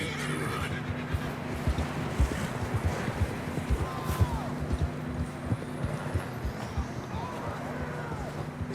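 Horses in Red Dead Redemption 2 clip-clop steadily over the ground at close range, with an occasional snort or whinny and game voices talking over the hoofbeats.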